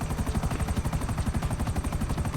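A helicopter in the GTA 5 Online video game flies with a loud, fast rhythmic rotor chop that pulses steadily throughout, alone with no talking.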